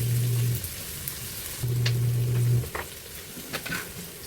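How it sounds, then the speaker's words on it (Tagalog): Onions sauté in oil in a pan after browned garlic while beef caldereta is being made, a close, crackling sizzle with scattered pops and stirring clicks, alongside two short low electrical hums. "Isunod natin ang sibuyas. Gisa-gisa muna natin."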